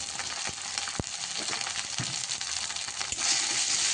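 Spices for a mustard-oil style fish curry with mourala fish frying in a pan, a continuous bright sizzle with a few sharp stirring clicks and scrapes, close and fairly quiet, no voices.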